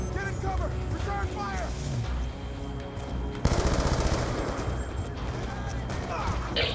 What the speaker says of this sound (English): The French vehicle is taking heavy fire from all sides.